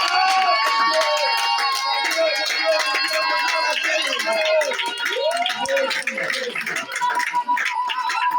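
A church congregation cheering and clapping for an evangelist, steady, loud crowd noise under ringing, tonal voices and music throughout.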